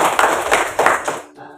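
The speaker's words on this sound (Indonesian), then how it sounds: "Nah, kasih tepuk tangan dulu untuk Krisna." Short burst of classroom applause from students for a classmate named Krisna, a quick flurry of claps lasting barely over a second before cutting off.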